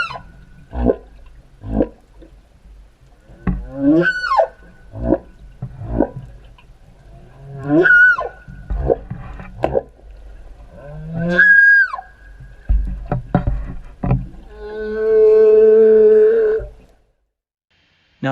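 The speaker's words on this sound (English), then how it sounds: "80-foot-long fin whales, second only in size to the blue whale, can make low-frequency moaning sounds" Long moaning whale calls, some sweeping and some sustained, repeat every few seconds, with a steady tonal stretch near the end, heard alone with no talk.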